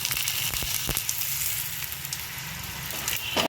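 Hot oil tempering with mustard seeds and curry leaves poured into rasam in a tin-lead pot, giving a loud, steady, close sizzle with sharp crackles and pops throughout, with no talking.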